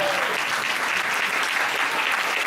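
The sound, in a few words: audience applause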